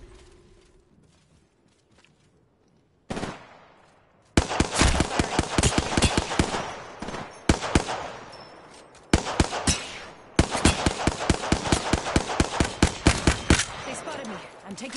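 Battle royale video game gunfire: after a quiet stretch, loud rapid automatic bursts rattle off in dense, rhythmic strings with brief pauses between volleys, close and dominant.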